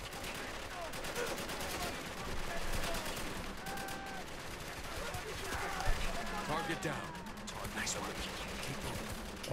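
Silenced gunfire in the game Spec Ops: The Line, scattered muffled shots among busy combat noise, with someone talking throughout.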